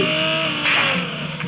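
A car engine in Call of Duty hums and briefly surges, a close mechanical drone with tonal whine that swells mid-clip and eases off, with game sounds around it.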